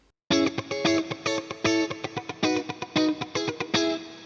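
Distorted electric guitar strums a choppy, funky rhythm, full chords broken up by short muted scratches, played alone and up close.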